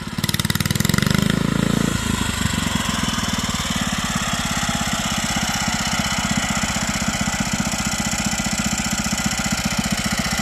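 A Bolens Husky 800 garden tractor, parked for 14 years and brought back to life, runs with a steady close-up chugging beat after a louder, rougher burst in the first couple of seconds.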